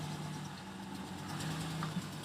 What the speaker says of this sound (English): a very loud truck just started right outside my window